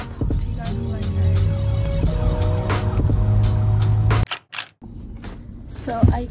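A car being driven, with steady engine and road rumble running continuously before cutting off abruptly, followed by a few brief clicks and handling noises near the end.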